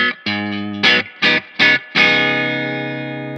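Electric guitar straight into the amp with all pedals bypassed, a few short loud chord stabs followed by one big chord left ringing and slowly decaying, close and unaccompanied.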